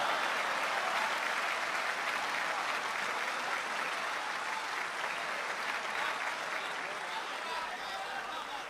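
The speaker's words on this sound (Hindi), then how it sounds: "वैसी नहीं बजी ताली जैसी बजनी चाहिए थी।" Steady, dense applause from a large audience at the Jashn-e-Urdu mushaira and kavi sammelan in Dubai, a continuous wash of clapping at moderate volume without a break.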